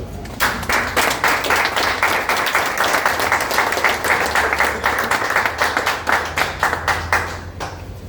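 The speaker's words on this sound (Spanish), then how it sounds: "Den un aplauso al Señor." A church congregation claps together in a steady, rhythmic beat, loud and close, fading out at the end.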